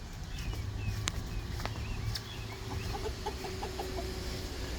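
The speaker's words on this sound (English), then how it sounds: "But you guys wanna see the chickens?" Hens cluck softly in short bursts against a steady outdoor background, with a few scattered calls near the end.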